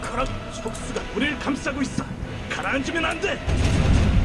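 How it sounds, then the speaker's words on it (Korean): Booming cannon fire in a mobile pirate strategy RPG, rumbling blasts over energetic music and sound effects, a heavy low burst near the end, with a voice talking over it. "대포 쏘았어"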